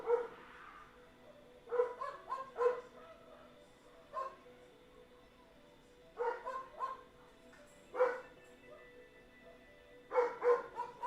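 A pack of wild dogs barks outside at night, heard in clustered bursts of yelps and barks from a distance, separated by quiet gaps.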